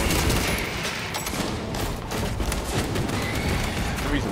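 Bolt gun fire in the Warhammer 40k Space Marine 2 video game crackles in a dense, sustained barrage of overlapping shots and blasts, loud and continuous amid chaotic battle noise for several seconds.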